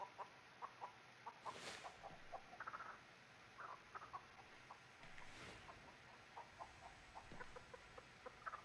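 Chicken clucking in the Texas Chainsaw Massacre video game, a series of short repeated clucks in an uneven rhythm, fairly faint, alone over a quiet background with a couple of brief noise bursts.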